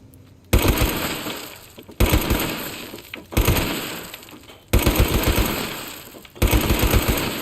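An explosive gun fires in a video game: five loud, sharp blasts at irregular intervals, each one trailing off into a crackling, debris-like decay.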